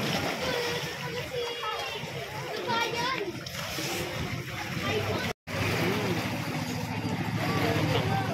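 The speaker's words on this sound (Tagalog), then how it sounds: "Ang lakas pa ng alon." Loud, constant rush of water and strong waves splashing against a ferry boat, with a steady engine drone and voices of children and adults talking throughout.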